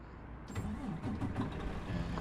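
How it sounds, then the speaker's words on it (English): In American Truck Simulator, a truck engine cranks and catches, then settles into a low rumbling idle, close and moderately loud with no talking. "Let's go ahead and start our truck"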